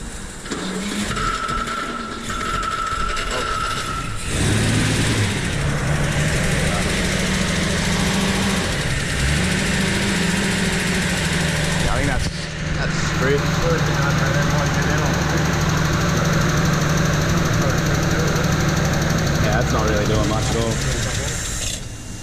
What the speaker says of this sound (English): Yeah, because it's idling, alright.